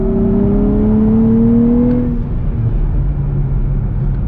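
A 2023 Nissan Z engine on a track, a loud sustained drone that climbs in pitch then eases off and settles lower as the revs drop, heard from inside the car with no voices.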